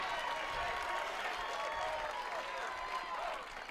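Applause after a point in a women's platform tennis final: a steady, fairly distant wash of clapping from the crowd that holds throughout and tapers slightly at the end.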